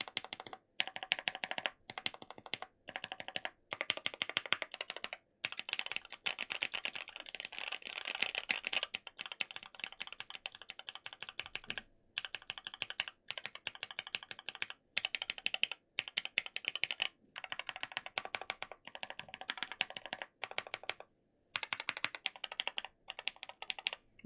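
Steady, continuous typing on a JLabs JP02 mechanical keyboard, close and clear, with rapid clacking keystrokes and only brief pauses throughout.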